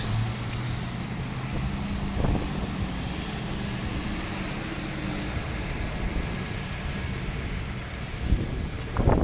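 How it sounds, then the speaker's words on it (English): A gust of wind buffets the microphone at a busy, noisy city intersection with truck traffic, a rough rumbling roar lasting the whole clip, with brief louder bursts near the start and end. "Well, getting a little puff of wind there."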